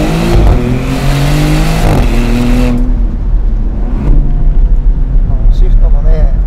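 Maserati GranCabrio Trofeo on a winding road in sport mode, its engine droning loud and steady from the cabin, with a rising rev in the first few seconds before settling into a constant cruise note; speech is present over the engine.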